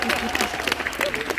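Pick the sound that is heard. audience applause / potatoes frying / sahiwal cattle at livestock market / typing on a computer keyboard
audience applause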